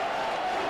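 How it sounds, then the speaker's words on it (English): A stadium crowd of Tottenham fans at a 1999 Worthington Cup match roars after a Ramon Vega header. The sustained, loud cheer fills the whole brief moment. "Vega has given those Tottenham fans something more to cheer"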